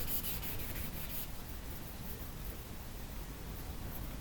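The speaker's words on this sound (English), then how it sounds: "So now I'm here with the 1000 grit, putting in the final polish." Steady, close sanding hiss as 1000-grit abrasive puts a final polish on a knife blade forged from a Morris Minor leaf spring, continuous with a brief brighter scratchy stretch at the start.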